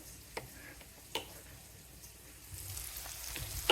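Poha, flattened rice with potato and tomato, frying gently in a pan with a faint steady sizzle, a few sharp ticks of a spoon against the pan, and no talk.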